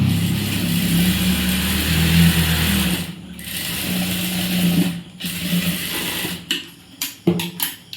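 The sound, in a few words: sewing machine stitching a blouse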